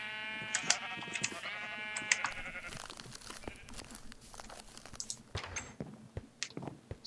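Sheep in the video game Minecraft bleat in short, wavering cries, several overlapping calls early on, followed by softer clicks and crunching game sounds at moderate loudness.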